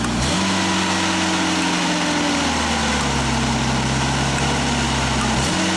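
A Genie boom lift engine runs at fast idle with a steady, close mechanical drone; its pitch dips about a third of the way in, holds lower, then briefly rises near the end.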